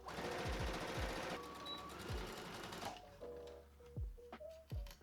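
Sewing machine stitching two fabric ruffle pieces for a sundress, running in several short bursts with brief pauses between them, close and fairly quiet.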